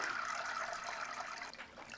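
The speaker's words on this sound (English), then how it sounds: "dump most of this water out in here" Water poured out of an orchid pot filled with LECA clay pebbles, a short splashing trickle that tapers off.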